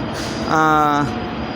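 A train horn gives one short, steady blast over a background rumble at Yeshwanthpur railway station in Bengaluru.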